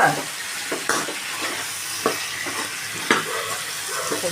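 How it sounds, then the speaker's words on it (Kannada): Brinjal frying in oil for a Karnataka-style sambar, a steady sizzle broken by repeated sharp spatula scrapes and knocks against the pan, close and with no voices. "ಎಣ್ಣೆಲಿ ಚೆನ್ನಾಗಿ ಫ್ರೈ ಮಾಡಬೇಕು"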